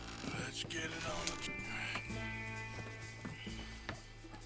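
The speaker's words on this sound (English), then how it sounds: "Some big horses." Horse hooves clip-clopping in the video game Red Dead Redemption 2, a steady walking rhythm of close hoof beats over a low music bed with an occasional snort.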